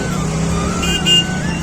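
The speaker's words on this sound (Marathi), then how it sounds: "ये ट्रैफिक तो देखो" Heavy road traffic near Bhilat Baba Dham in Nagalwadi, Madhya Pradesh, with cars and motorcycles rumbling past in a steady, loud engine drone and a brief horn-like tone, close by throughout.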